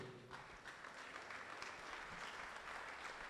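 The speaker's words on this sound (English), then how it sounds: "Let's welcome, with a round of applause, Professor Maurizio." Applause from an orientation audience greeting a university engineering professor, a dense, steady wash of many hands clapping throughout, fairly loud and sustained with no talk.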